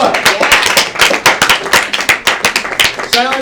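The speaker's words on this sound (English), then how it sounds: "Let's applaud the performer" Close, loud clapping from a poetry slam audience for a poet, many hands beating in a quick uneven patter that runs the whole time, with a voice briefly at the end.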